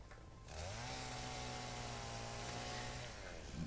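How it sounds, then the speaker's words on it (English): A chainsaw in the Satisfactory video game starts up and drones at a steady, even pitch for a few seconds before winding down, heard alone and fairly quiet. "who doesn't love a chainsaw?"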